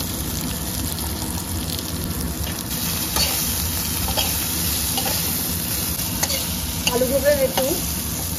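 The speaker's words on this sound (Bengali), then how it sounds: "আলুগুলো লাল লাল করে ভাজা হয়ে গেছে।" Potatoes frying in a pan with a continuous bright sizzle, plus a few stirring scrapes and clinks near the end. The sound stays close and steady.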